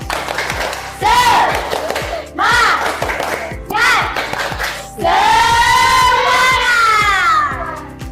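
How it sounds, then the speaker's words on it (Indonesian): A class of children in a lesson chanting a rhythmic spirit clap in unison, shouted voices in repeated bursts with sharp clapping beats underneath, loud and close. "Tepuk semangat."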